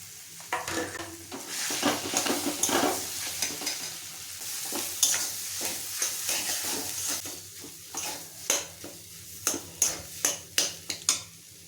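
Ginger-garlic paste frying in a pan for a potato sandwich, a continuous sizzle broken by rhythmic scraping strokes and metallic taps of a spoon against the pan, ending in a run of quick knocks.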